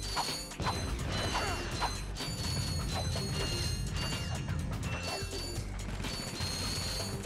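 Dense clattering game effects from Ratchet and Clank fill the scene as many bolts are collected, a busy stream of metallic clinks and mechanical rattles over steady background game sound.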